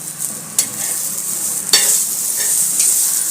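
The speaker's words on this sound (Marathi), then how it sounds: "छान असा मसाला भाजून घेत आहे" Masala with pink-browned onion and green chilli roasting in a pan for a bitter gourd dish, a bright continuous sizzle broken by a few sharp spatula stirs and scrapes, close and fairly loud.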